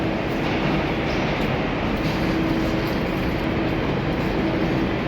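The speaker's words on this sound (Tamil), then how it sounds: "என் லோக்கல் ட்ரெயின் நான் நினைக்கிறேன்." Local train at an Australian station, a loud continuous rumble and rolling roar with a faint tonal hum, steady throughout and close by, no talking.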